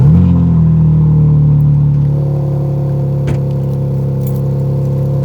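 BMW G80 M3 Competition exhaust droning at a steady near idle, loud and continuous, settling slightly lower partway through as the exhaust valves shut.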